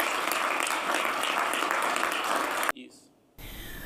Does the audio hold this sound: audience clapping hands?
yes